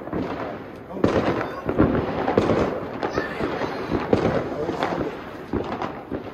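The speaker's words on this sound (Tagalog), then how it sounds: "it's just the fireworks" New Year fireworks crackle and pop repeatedly in a dense, loud barrage in the UK, with people talking excitedly over the bursts.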